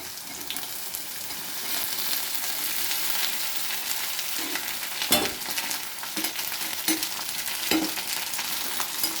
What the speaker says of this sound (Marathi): आता आपण त्याच्यात गॅस कमी करून घेऊ आणि भेंडी टाकून देऊ सगळी.